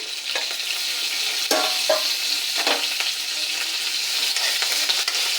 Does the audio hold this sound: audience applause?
no